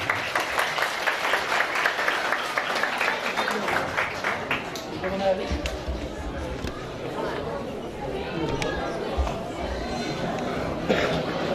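Audience applause at an opening speech for a village Kurban Bayramı gathering in Karaçavuş, Amasya, welcoming the association president to the stage; steady clapping fills the clip alongside crowd chatter and murmuring, holding loud throughout.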